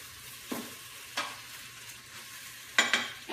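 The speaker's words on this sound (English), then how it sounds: "just stir it up a bit." A spoon stirs Thai beef stew in a slow cooker, making three or four short scraping clinks against the pot over a low steady background hum, with no talk.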